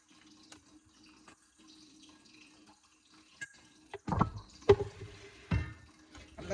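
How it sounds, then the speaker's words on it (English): Creamy garlic oil is strained in a kitchen. After a near-silent start, liquid splashes and trickles in short bursts, with drips close by. "So we're gonna strain it."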